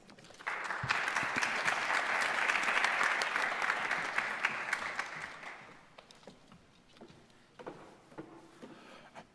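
An audience breaks into warm applause to welcome speaker Richie Hodel at a research talk. The clapping is dense and sustained for several seconds, then thins to scattered claps and fades into room noise.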